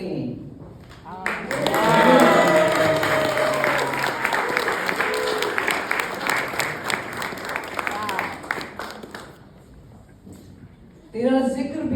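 Sustained audience applause at a book launch for a culinary memoir, loud and dense clapping with some cheering that swells, then gradually thins and fades before a voice speaks at the end.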